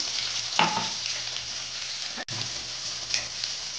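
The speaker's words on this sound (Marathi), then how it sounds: "आपण कढीपत्ता टाकूया, त्यानंतर मिरची, जे आलं आणि लसूण खलबत्त्यामध्ये कुटलेलं ते टाकते याचं." Curry leaves, green chili and pounded ginger and garlic hit hot oil for a baby prawn masala, crackling and sizzling steadily up close, with a couple of brief stirring knocks and no voices.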